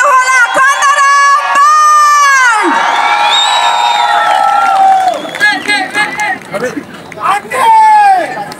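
Concert crowd at a live band show in Dharan cheering and shouting loudly, a dense sustained roar of many voices that swells, dips briefly, then surges again.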